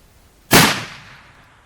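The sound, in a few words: firing .50 BMG / .416 Barrett rifle rounds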